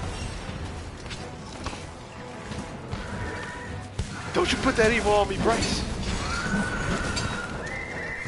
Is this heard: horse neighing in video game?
yes